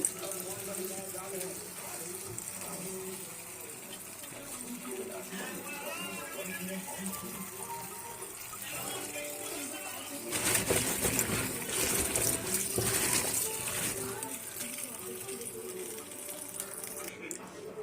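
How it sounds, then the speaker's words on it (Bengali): Taro stems get washed in water at a kitchen sink: running water splashes and trickles steadily, swelling into a louder gush about two-thirds through, with a voice or tonal background underneath. "এই যে কচুগুলো এখন ধুয়ে নিব, ভালোভাবে ধুয়ে রেখে দিব"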